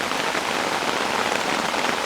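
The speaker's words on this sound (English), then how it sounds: "it rained off and on" Rain patters steadily onto a hammock rain fly, a dense, even hiss of countless drops up close, continuous and unbroken with no voices.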